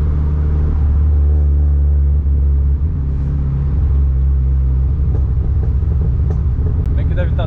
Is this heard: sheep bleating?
no